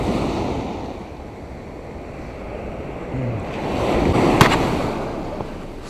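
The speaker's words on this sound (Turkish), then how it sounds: "Biraz dalga fazla." Sea waves break and wash continuously on the Karasu beach shore, a loud, steady roar with wind buffeting the microphone and a swell building near the end.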